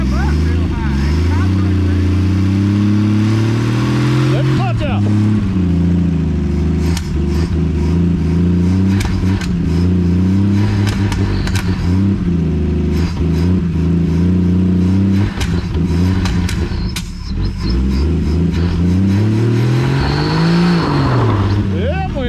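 A 1959 Edsel Ranger's engine, running for the first time in over 30 years, cranks and then idles roughly and revs up and down, loud and close throughout, with people talking over it.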